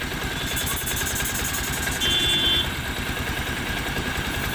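A Bajaj Pulsar motorcycle with an over-revving and mileage problem idles steadily at close range, a continuous even engine drone with a brief slight rise midway, heard around its exhaust pipe.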